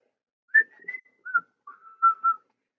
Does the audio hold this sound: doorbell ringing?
no